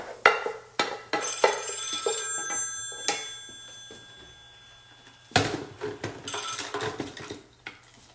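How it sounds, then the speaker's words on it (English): A telephone rings with an incoming call in a kitchen, bright tonal rings in bursts near the start and again later, mixed with clinks of dishes and utensils and gaps of quiet between. "I think I have a phone call coming in."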